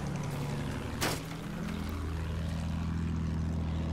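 A propeller plane in the video game Battlefield 1, with a steady droning engine hum under a brief whooshing burst, continuous and fairly loud.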